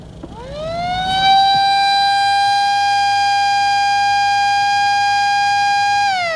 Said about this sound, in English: Let's hear a siren.